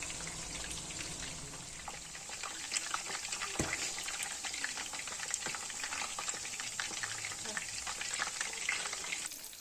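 Chicken pieces for a chicken roast fry in a pan over medium gas while being turned, giving a dense, continuous crackling sizzle with scattered pops and scraping from the turning, and no voices.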